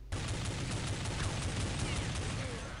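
Dense, rapid gunfire from the video game Counter-Strike 1.6, with a steady, loud barrage of overlapping shots from start to finish.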